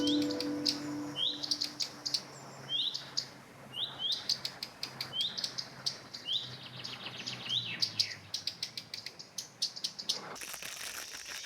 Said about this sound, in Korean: 지금 이게 새소리잖아요. 근데 새가 어떤 새인지는 구분을 못 해요. 그 새소리하고 찌익하는 이게 매미소리.